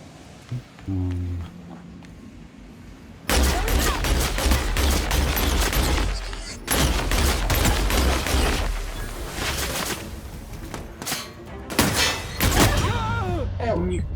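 Bursts of rapid, crackling electric-gun fire in The Outer Worlds, in several loud volleys separated by short pauses, with thuds and footsteps between.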